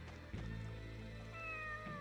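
A cat in the video game Tales of the Abyss lets out a single sustained meow over a low steady game background hum, clear and close with no talking.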